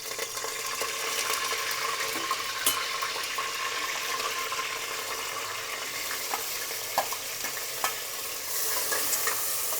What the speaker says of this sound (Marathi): असं जिरं पण चांगलं तळतळून गेलं आहे.